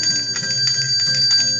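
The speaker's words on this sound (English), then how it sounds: "Turn that notification bell on." A notification bell sound effect rings with bright, sustained tonal chimes and some soft repeated strikes across its short length, standing alone with no talking.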